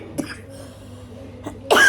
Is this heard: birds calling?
no